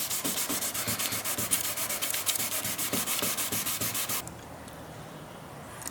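Hand sanding with 400 grit sandpaper over body filler on a wrecked Dodge Challenger Shaker, fast rhythmic rubbing strokes close up, stopping abruptly near the end to leave a quiet room tone.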